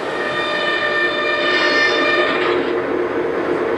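A Lionel Legacy R-16 Sharknose toy diesel locomotive gives its squealing brake sound, a steady high metallic screech with a droning rail-like hum beneath, heard alone for a few seconds.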